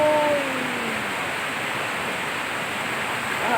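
Rain falls on a flooded street in Santo Cristo, Bulacan, a dense steady hiss of water that stays constant and close, with a few faint high tones at the start and no voices.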